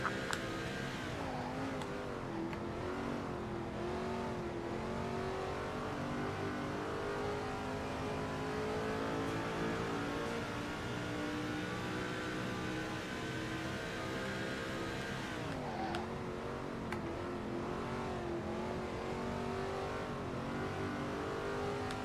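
Race car engine from NASCAR 2005 on a timed lap at the New England 200, a loud continuous engine drone with rising and falling pitch through gear shifts and corners, steady throughout with no voices.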